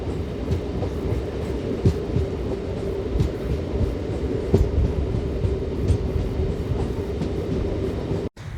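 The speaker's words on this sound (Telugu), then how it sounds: "నిడదల అవుట్స్కట్స్లోకి వచ్చేసరికి మన ట్రైన్ అయితే స్లోగా వెళ్తుంది" A MEMU express train rolls slowly along the rails between Narasapur and Rajahmundry, its steady low rumble and hum punctuated by occasional wheel clicks, heard continuously from inside the carriage.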